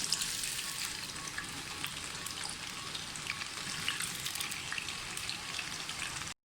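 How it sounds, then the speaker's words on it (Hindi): French fries frying in hot oil, a steady, loud, dense sizzle and crackle that holds evenly throughout with no voices. "चिप्स फ्रेंच फ्राइज़ जो है फ्राई करना शुरू करें।"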